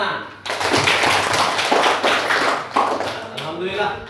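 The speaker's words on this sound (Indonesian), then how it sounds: "Tepuk" A classroom group claps together for a presenting student group, a dense burst of applause lasting several seconds with a short break near the end.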